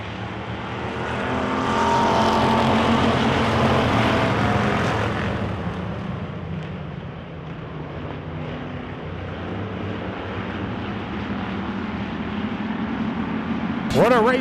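Wissota pure stock race cars roar around a dirt oval track during a heat and feature, a loud pack swelling past and fading into a steady distant drone, with an announcer talking over the engines.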